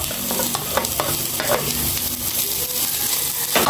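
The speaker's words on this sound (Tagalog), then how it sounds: "ipapa-brown lang natin yung luya" Ginger sizzles and fries in a pan as the first step of binagoongan talong, with steady crackling and occasional stirring scrapes throughout, close and fairly loud.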